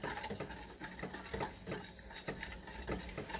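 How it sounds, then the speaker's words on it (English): A whisk beats thickening sea moss porridge in a pot, making a quick rhythmic patter of soft wet taps and light scraping, close up and fairly faint. "Get the whisk."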